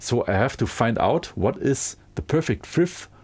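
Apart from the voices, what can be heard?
No distinct noise like a dog, phone or traffic.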